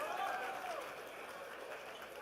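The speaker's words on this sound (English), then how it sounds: "give them a round of applause, please" Audience applause at a commerce school graduation convocation, a steady broadband wash of clapping lasting throughout, with a voice briefly audible over it near the start.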